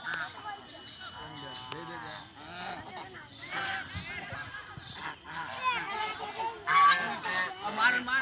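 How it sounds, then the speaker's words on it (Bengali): Geese honk repeatedly at close range, loud and overlapping, while people talk throughout and a child is coaxed along nearby. "ওই দেখো রাজহাঁস"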